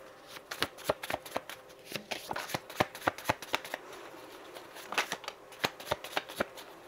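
Tarot cards are shuffled in a steady run of crisp riffling flicks and soft taps, close and clear, with no talking.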